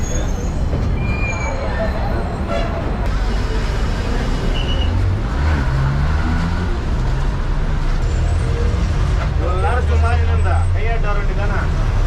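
A city bus pulls up at the Vandalur stop on the Kilambakkam to Koyambedu route, its engine rumbling close and steady, with traffic noise and a brief air-brake hiss, while someone talks over it throughout.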